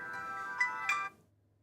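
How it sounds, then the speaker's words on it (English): A phone ringtone sounds for a spam call: a steady electronic tonal melody with two brighter accent notes, ringing for about a second before cutting off abruptly into near silence. "Leave it to me to not silence my phone. We got a spam caller."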